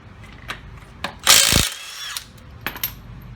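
A power tool removing 22mm lug nuts from the front wheel of a 2018 Dodge Charger V-6, with sharp mechanical clicks and one loud, brief whirring burst up close.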